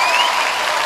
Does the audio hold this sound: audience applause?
yes